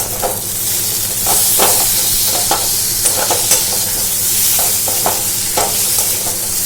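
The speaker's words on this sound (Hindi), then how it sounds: "टमाटर को मसालों के साथ अच्छे से मिला देते हैं" Chopped tomatoes are stirred into masala frying in a pan for a prawn curry. A loud, steady sizzle runs throughout, broken by repeated scraping strokes of the spatula.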